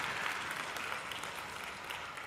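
Sustained applause from an audience at an engineering symposium, a dense, even wash of many hands clapping at steady moderate volume throughout, with no voices standing out.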